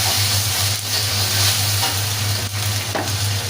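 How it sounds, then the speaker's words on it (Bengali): Onion and garlic sizzle and spit steadily in a hot frying pan, with a few stirring scrapes and no voices, close and continuous throughout. "দিয়ে দিলাম একটু পেঁয়াজ রসুন।"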